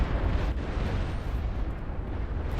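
Plasma cannons firing and exploding in the real-time strategy game Beyond All Reason form a dense, continuous rumble of overlapping blasts and booms during a massive battle, loud and sustained with no speech.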